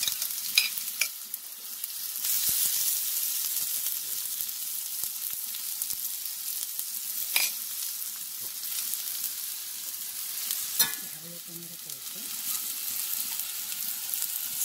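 Chopped ingredients for huevos rancheros frying in oil in a pan, a steady close sizzle with occasional stirring scrapes and clinks, continuing throughout with no talk.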